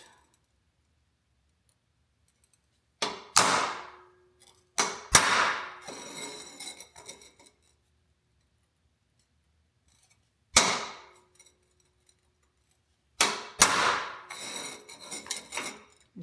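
Light hammer taps on a center punch marking metal for drilling, in a home workshop building a sand blaster tumbler: four bursts of sharp metallic strikes with ringing tails, separated by quiet pauses.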